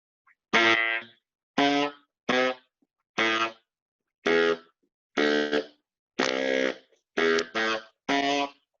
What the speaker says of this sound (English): you get a thunky, honky sound